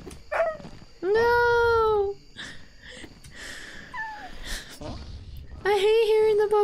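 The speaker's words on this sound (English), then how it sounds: "I hate hearing the puppy dog cry!" A puppy dog in a video game cries in high, wavering whimpers, two loud drawn-out bursts at the start and end with fainter cries between, amid game noise and a player talking.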